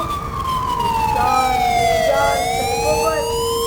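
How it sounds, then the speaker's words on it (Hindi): A wailing ambulance siren sweeps steadily up and down in pitch, loud and close, over a constant rumble of road traffic. "एम्बुलेंस की आवाज, गौर करो।"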